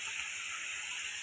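Potatoes fry in a pan with turmeric and ground spices, giving a steady, soft, even hiss of sizzling oil with no break.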